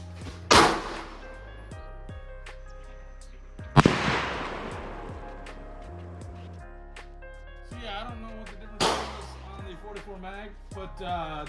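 A .450 Bushmaster rifle fires at 2-liter bottles outdoors: three loud, sharp reports a few seconds apart, each ringing out in a long decaying echo, with people talking in between.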